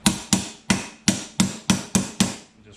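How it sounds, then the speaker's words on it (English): Seven evenly spaced, sharp metallic hammer blows drive a pipe coupler down to seat a J series transmission cuff, each strike ringing briefly and decaying before the next. The blows are close and loud with no talking. "We're just going to hammer this down until it touches."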